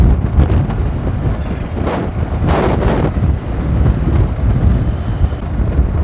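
Strong gusting wind roars across the microphone outdoors at a bike showroom, a loud, continuous low rumble with rising and falling buffets and no voices.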